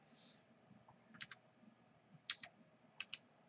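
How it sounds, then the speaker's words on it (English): Keys clicking on a computer keyboard as data is typed in, a few short bursts of two or three taps each, close and fairly quiet over a faint background hum. "So now all I have to do is type in my data"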